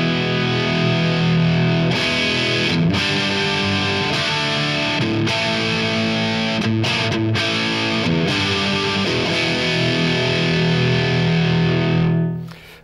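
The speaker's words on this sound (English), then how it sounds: "If I push the volume up, we start to drive the amp a bit more." A Zakk Wylde signature Gibson Les Paul with EMG active pickups through an overdriven amp: chords ring out with thick distortion, loud and continuous with short rhythmic breaks, fading out at the end.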